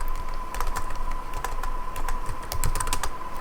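Fast keystrokes clatter on a computer keyboard as a command is typed, in a dense close run of clicks over a faint steady hum, with no talking.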